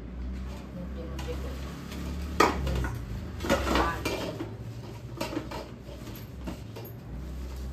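Metal kitchen pots, pans and utensils clink and clatter as they are handled and packed from a cupboard, with sharp knocks and scraping under a low background hum; someone talks over the handling.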